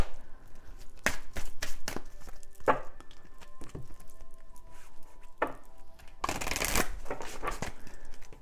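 A deck of cards shuffled close up for a reading, giving several sharp riffling bursts separated by softer handling taps and pauses, with no talking.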